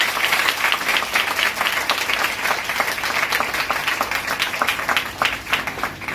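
A church congregation applauds in steady, dense clapping that fills the whole stretch, close and lively with no talk over it.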